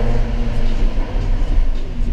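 Cabin-heard engine of a 381-horsepower Mercedes A45 AMG, a loud steady low rumble with slight surges throughout.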